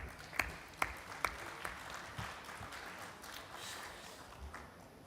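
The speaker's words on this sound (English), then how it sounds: "Let's have a round of applause for them." Light audience applause for panel speakers at a climate and food-systems event, a soft, fairly distant patter of many hands with a few sharper claps, steady and fading slightly.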